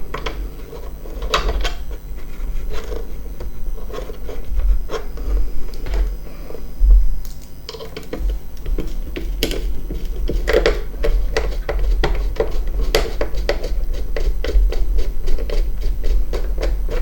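Screws being fitted to a Samsung Smart Monitor M7 stand, with a run of small clicks, taps and metallic knocks spread across the whole stretch, close and fairly steady, no talking.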